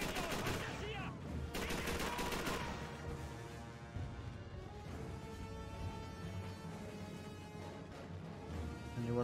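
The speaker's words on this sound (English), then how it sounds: "Ooh, MG42. Yep, that rate of fire is about accurate." MG42 machine gun in Call of Duty 3 rattling off long, rapid bursts at a fast rate of fire, loud and dense throughout with other gunfire mixed in.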